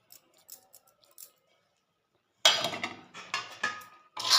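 A utensil mixes masala powder into chicken pickle in a pan, giving soft scattered taps at first, then louder clattering scrapes and knocks of metal against the pan.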